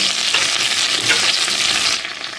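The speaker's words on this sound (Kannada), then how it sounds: "ಎಣ್ಣೆ ಹಾಕಿದ ಮೇಲೆ ಪಲಾವ್ ಎಲೆ ಚಕ್ಕೆ ಎರಡು ಪೀಸು ಲವಂಗಲ್ಲ ಹಾಕಿದ್ದೇನೆ" Bay leaf, cinnamon and cloves fry in hot oil in a pan, giving a loud, continuous close-up sizzle that crackles steadily throughout with no voices.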